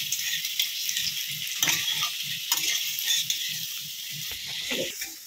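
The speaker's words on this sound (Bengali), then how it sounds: "আলুগুলো ভাজা হয়ে গেছে" Potatoes fry in a pan for egg curry, giving a steady close sizzle broken by repeated scraping stirs, with no talking.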